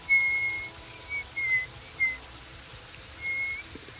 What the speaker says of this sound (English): Weird way of whistling.